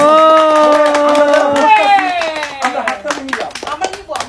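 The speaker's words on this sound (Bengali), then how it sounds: "জোরে একটা হাততালি সবাই সবাই।" A group at a Bengali New Year (Boishakh) celebration breaks into loud applause. A voice talks over the first half, then scattered claps continue as the speech fades.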